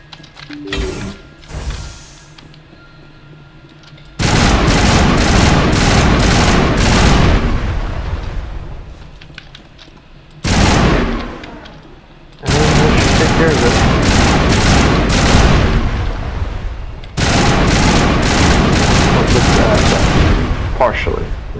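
Sustained bursts of rapid automatic gunfire from a weapon shooting at a conduit in the video game Mass Effect, loud and dense, in several long volleys separated by brief pauses with faint talk between.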